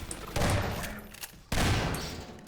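Gunfire in the Half-Life 2: Episode One video game: two loud, close bursts of shots, the first lasting about a second and the second starting about a second later, each fading out.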